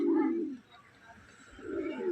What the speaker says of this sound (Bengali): দেখতে পাচ্ছ খুব সুন্দর একটি পায়রা মাদি বাচ্চা।